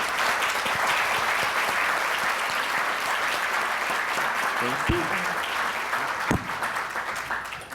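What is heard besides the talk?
audience applause for panelists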